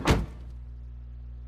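A single close car door thunk from the game Death Mark as someone gets into a car, followed by a low steady engine hum.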